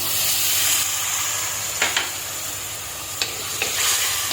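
Tamarind water in a simmering pepper mackerel curry with tomato pieces, a steady loud bubbling sizzle close by, broken by a few brief scraping knocks of a spoon.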